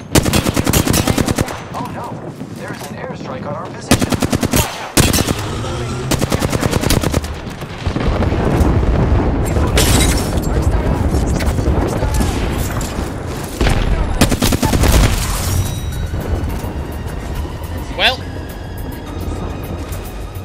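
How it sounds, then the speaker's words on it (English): Apex Legends match with an airstrike landing: dense bursts of automatic gunfire and heavy booming explosions pound almost continuously, loud and close, with brief gaps and a voice talking over the barrage. "There is an airstrike on our position."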